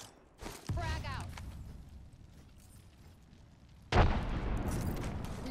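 A frag grenade in Apex Legends erupts in a sudden, heavy blast near the end, trailing into rumbling noise after quieter gameplay sounds and a brief character voice line.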